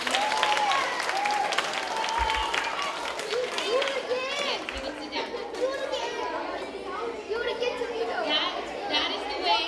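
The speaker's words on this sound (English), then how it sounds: "let's give a round of applause for volunteers." Audience applause for volunteers at an autism awareness day event, mixed with children's chatter and running; steady clapping throughout, with voices talking underneath.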